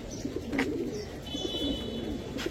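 Pigeons coo in low, soft, repeated murmurs, with a few faint chirps and rustles close by. No one is speaking.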